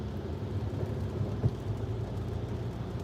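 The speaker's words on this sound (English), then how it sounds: "And then last night again, it's stormy." Steady rain over a low, rumbling thunderstorm, with continuous hiss and a soft distant thunder swell, outdoors at night, no voices.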